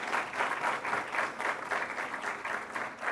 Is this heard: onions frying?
no